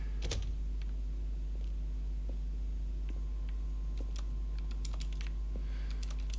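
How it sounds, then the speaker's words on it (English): Rapid clicky keystrokes, typewriter-like, come from The Stanley Parable video game. They are scattered and fairly faint over a constant low hum. "If you keep pressing A, it just sounds like he's on a typewriter."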